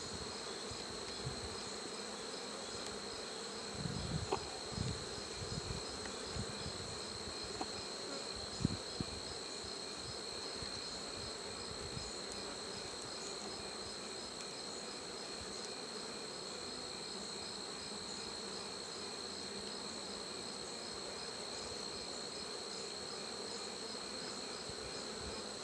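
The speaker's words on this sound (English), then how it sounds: "there's a lot of bees in this hive, that's for sure" Buckfast honeybees swarm an open breeder hive in a dense, steady hum that holds for the whole stretch, with a few soft knocks of hive equipment early on.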